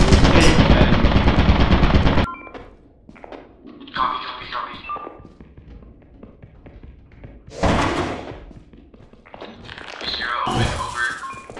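Rapid automatic turret fire in a video game, a loud dense burst of gunfire at the start, then scattered thuds and shots, with voices talking over it.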